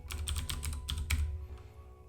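Fingers typing a command on a computer keyboard, a quick close run of crisp key clicks lasting about a second and a half, then fading to quiet, with no voices.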